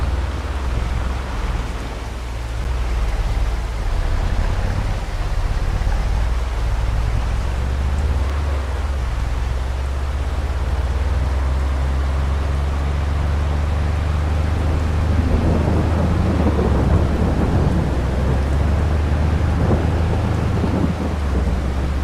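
Steady rain pours in Farming Simulator 22 with deep rolling thunder rumbling underneath, loud and continuous, the rumble swelling again near the end.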